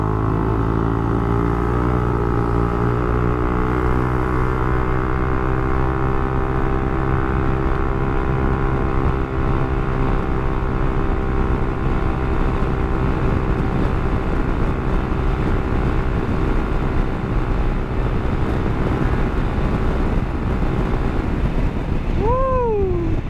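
A scooter with a tuned CVT and an aftermarket exhaust pipe drones steadily and loudly close by. The engine hum holds for a long stretch, and a quick rising rev note comes near the end.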